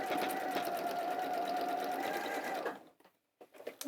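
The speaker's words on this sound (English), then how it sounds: "sew them both together" A sewing machine runs steadily, stitching two fabric pieces together for a tablet case, then stops abruptly and is followed by brief quiet handling noises.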